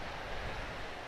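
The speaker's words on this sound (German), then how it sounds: "da haben wir das Meer" Sea waves washing onto a rocky stretch of Greek coast beside a small chapel, a steady soft wash of surf mixed with wind noise, fairly faint and with no voices.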